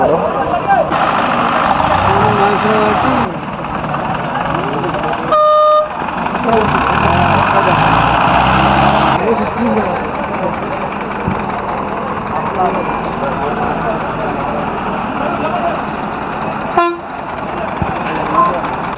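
Congested road traffic around a crane lifting a 21-foot Hanuman statue, with idling truck engines throughout and two short, sharp horn blasts cutting through, one early and one late, while people talk over the steady rumble.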